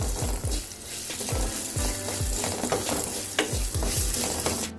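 Steady sizzling frying of spices for salna over medium flame, with a utensil scraping and stirring in a pan in a regular rhythm, close and fairly loud.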